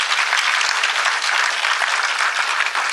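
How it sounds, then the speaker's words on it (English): Steady, even audience applause for sponsors at a formal ceremony, a continuous close crackle of many hands clapping with no voices over it. "Let's give them a round of applause."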